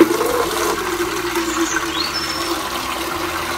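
Water runs steadily into an upturned plastic chicken drinker, a continuous close rushing and gurgling of filling liquid.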